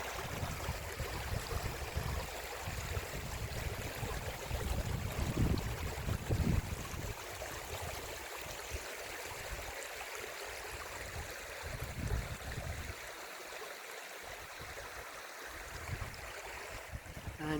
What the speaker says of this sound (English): It's just that beautiful peace and quiet and running water.